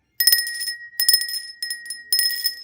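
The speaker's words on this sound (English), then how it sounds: "I did get another bell though." A small bell bought at a thrift store rings in three bright bursts, each with quick repeated clangs and a ringing tone that fades between shakes, loud and close with no talk.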